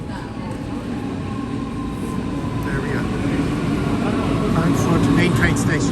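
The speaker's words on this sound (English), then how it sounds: "That is the train towards the main." A train bound for Frankfurt main station pulls in, with a steady low rumble that grows slightly louder and a few faint squeals, while voices talk over it.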